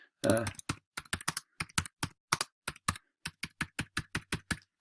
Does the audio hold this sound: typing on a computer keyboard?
yes